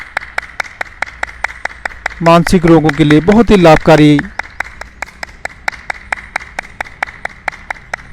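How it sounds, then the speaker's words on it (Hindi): A group clapping in a steady, even rhythm during a laughter yoga session with the Ludhiana police commissioner. The crisp claps continue throughout, and a loud voice talks over them for a couple of seconds midway. "जोर जोर से तालियां बजाते हुए खिलखिला के हंसे।"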